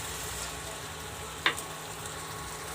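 Spice paste of ground coriander and cumin frying in a pan with a splash of water, giving a steady, soft hiss broken by one brief clink.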